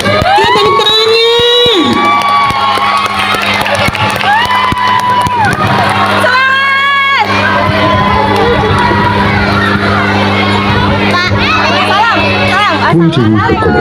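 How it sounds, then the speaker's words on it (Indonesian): Schoolchildren cheer and shout as a crowd at an elementary school Bulan Bahasa Sumpah Pemuda event, a loud, steady wash of young voices over a constant tonal hum for the whole stretch. "Tepuk tangannya."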